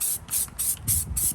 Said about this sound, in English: You can't like hold it down and spray.